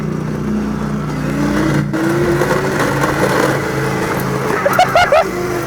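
A trike fitted with a speed sprocket revs and pulls away in a drag race test, its engine droning steadily and rising in pitch toward the end, fairly close and loud, with faint voices in the background.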